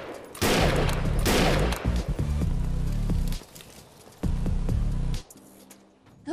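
Automated sentry guns in the video game Defiance 2050 unleash loud, sustained bursts of rapid fire, cutting off and restarting in long volleys with brief lulls between them.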